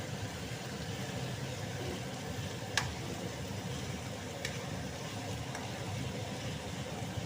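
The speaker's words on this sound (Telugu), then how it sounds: "ఓన్లీ ఆయిల్తోనే ఫ్రై అవుతుంది అన్నమాట ఫ్రెండ్స్" Potato curry with turmeric fries gently in oil in a pan, a low steady sizzle with a faint hiss, a few small pops and clicks breaking through.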